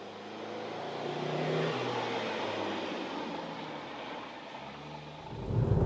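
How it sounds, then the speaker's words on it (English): A Fiat Tipo compact sedan with a 1.4-litre petrol engine drives through city traffic, a steady interior engine and road hum rising slightly near the end. "So we're now driving here in city traffic with the Fiat Tipo."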